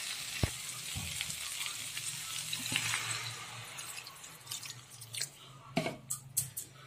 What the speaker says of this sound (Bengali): এখন এর মধ্যে আমি জল অ্যাড করব।